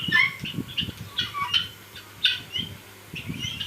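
Hens at a chicken farm, close and moderately loud, giving repeated soft clucks and short squawky calls in an uneven, steady chatter.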